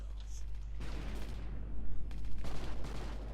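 Z gun turret firing in the Project Eden video game, a burst of rapid muffled shots over a steady low game hum, followed by a second cluster of louder thuds.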